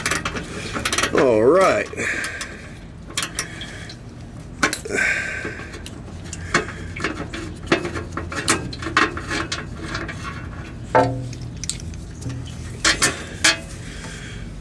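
A hand ratchet works on the fasteners of a transmission pan on a full-size rear-wheel-drive GM vehicle, giving quick close clicking bursts mixed with metallic clinks and handling noise, and a person speaks briefly.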